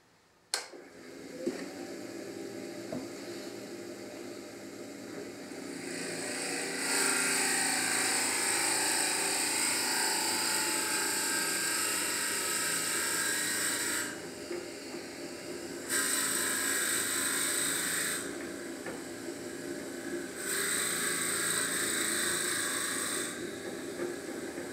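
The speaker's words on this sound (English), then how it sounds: "I'm going to start the lathe about just under 500." A metal lathe starts up and runs at just under 500 rpm, settling into a steady mechanical hum with a high whine. The whine brightens and fades in alternating stretches, and nobody speaks.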